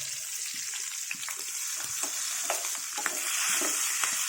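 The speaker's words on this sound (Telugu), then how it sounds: "ఇప్పుడు పచ్చిమిరకాయలు వేయించుకోవాలి." Green chillies frying in hot oil in a pan, a steady loud crackling sizzle with scattered pops and light stirring scrapes throughout.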